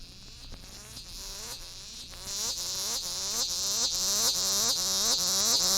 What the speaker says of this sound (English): A cicada whose song pulsates more slowly is Tibicen pruinosa, sometimes called the old scissors grinder.